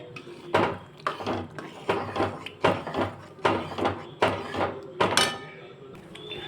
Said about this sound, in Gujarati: હવે આપણે બધું મિક્સ કરી દેવાનું છે